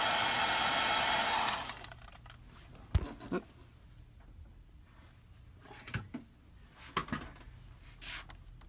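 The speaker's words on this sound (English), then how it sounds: "Take my heat gun and heat it up." A heat gun blows hot air with a loud, steady whoosh for about a second and a half, then cuts off, leaving quiet clicks and handling noises from a Keurig 2.0 repair.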